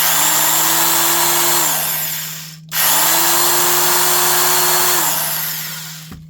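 A Ryobi DBJ-50 micro biscuit plate joiner with a belt drive, run twice. Each time its motor whines up to a steady high hum, then spins down, with a short gap between the two runs.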